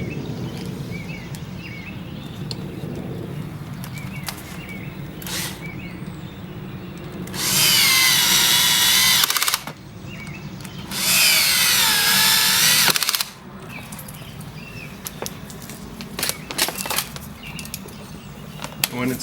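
A power drill bores holes for a boat splash guard bracket in two loud bursts of whining, a few seconds each, separated by a short pause, over a low background hum.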